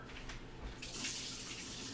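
Water runs steadily from a kitchen tap into a cooking pot, a broad continuous rush that grows louder and fuller partway through as the pot fills toward overflowing.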